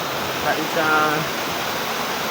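Steady broadband rush of Mahogany Falls, a waterfall in Dingalan, Aurora, continuous and close, with brief voices heard over the water.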